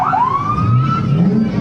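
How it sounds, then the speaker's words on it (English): A police siren wails nearby at a July 4th parade, its pitch sweeping up and falling in a long continuous tone over a low engine rumble. "This is the time you want to see the blue lights and hear the sirens."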